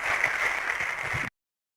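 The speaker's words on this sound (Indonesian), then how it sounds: "Tepuk tangan buat Bunda yang sudah bertanya." Audience applause at an Islamic parenting talk, a moderate, even burst of clapping in a room that stops abruptly after about a second.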